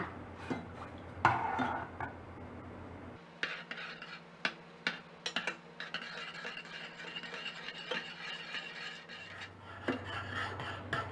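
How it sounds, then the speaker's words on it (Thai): Agar jelly with a knotted bundle of pandan leaves stirred in a pot over medium heat, a utensil clinking and scraping against the pot in irregular strokes over a low simmering hiss. "ใส่ใบเตยมัดลงไปเลยค่ะ และคอยคนตลอดเวลาจนกระทั่งผงวุ้นเนี่ยละลายดีค่ะ"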